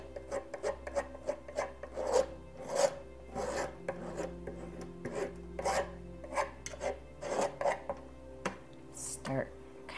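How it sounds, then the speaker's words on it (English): A palette knife scrapes and burnishes acrylic paint across canvas in repeated short rasping strokes, close and fairly quiet, with a faint low hum underneath. "Start kind of burnishing it in with the pressure on the heel of the knife."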